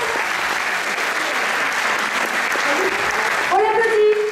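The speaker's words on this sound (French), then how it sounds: "On peut l'applaudir?" A crowd applauds a Miss Côte d'Or candidate at the pageant evening in Châtillon-sur-Seine, a continuous wash of clapping throughout, with a voice briefly emerging over it near the end.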